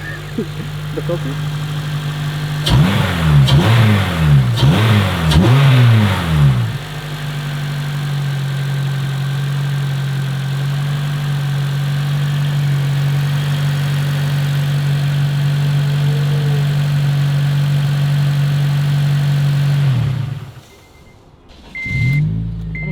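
Engine of an 8th-generation Honda Civic Si fitted with a new Hybrid Racing cold air intake, revving several times in quick bursts then settling into a steady idle before cutting off; loud and close, no talk over it.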